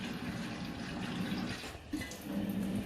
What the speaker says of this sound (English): So now we're adding a bit more water.